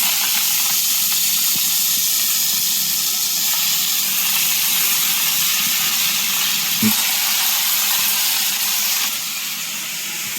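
Vegetables hit hot mustard oil in a pan and set off a loud, steady sizzling hiss that runs without a break to the end.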